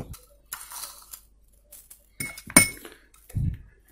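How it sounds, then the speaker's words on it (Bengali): A spoon clinks against a container while scooping a spoonful of sugar for a cucumber skin mixture, giving a few sharp, close scraping and tapping sounds separated by quiet gaps. "আমি এখান থেকে পরিমাণ মতো এক চামচ চিনি নেব"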